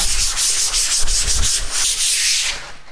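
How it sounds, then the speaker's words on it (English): A countertop gets a light hand sanding with P120 sandpaper: loud, close, rhythmic scratchy back-and-forth strokes, about a dozen quick passes, with no voices. "I'm quickly going to give my countertop a very light sand with the P120."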